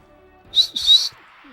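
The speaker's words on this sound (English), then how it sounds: "Whistling at me?" Two quick, bright whistled notes ring out in a short burst during a gaming session, standing alone against a quiet background.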